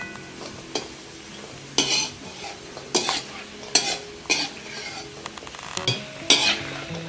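Dry fruits roasting in ghee for laddoos, a soft sizzle broken by repeated rhythmic scraping stirs of a spatula against the pan, close and alone.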